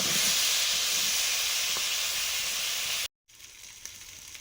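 Potatoes for a chicken curry and pointed gourd fry in hot oil with a loud, steady hiss and sizzle that cuts out briefly, then returns much quieter.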